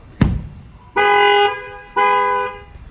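A 2018 Chevrolet Camaro's factory alarm horn, set off by its shock sensor, blares in two loud, close, sustained honks of about half a second each, following a single sharp knock on the window.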